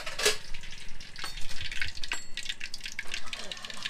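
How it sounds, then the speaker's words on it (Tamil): Fish frying in a kitchen on an Alappuzha houseboat, with a steady crackling sizzle and a few splashy clinks close by, while a person talks over it. "ஸோ மீன் பொரிச்சிட்டு இருக்காங்க இங்க."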